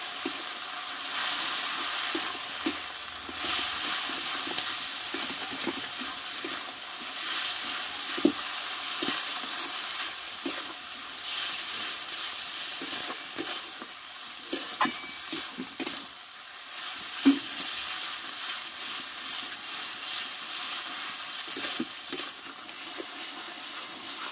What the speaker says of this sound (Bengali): দিয়ে মশলা একসঙ্গে ভালোভাবে কষে নেবো।